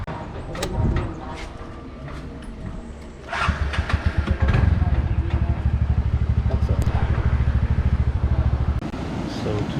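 A scooter engine starting after starter repair, a starter whir, then the engine catching into a steady rapid putter close by, idling on after the start, with a voice briefly heard early on.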